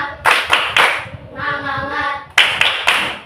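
A classroom of students does the rhythmic 'tepuk semangat' clap, with bursts of group clapping in a patterned beat, a short chanted or sung pause in the middle, then more sharp clap bursts, loud and close.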